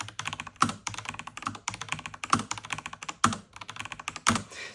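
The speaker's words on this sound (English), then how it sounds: "the mechanical keyboard that I've been using the most right now is this Razer. This is the Black Widow V4 low profile" Fast typing on a Razer BlackWidow V4 low profile mechanical keyboard, with rapid crisp clicks in quick bursts and a few heavier thocks, probably from the spacebar or a larger key, close and alone.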